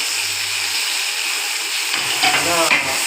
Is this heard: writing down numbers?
no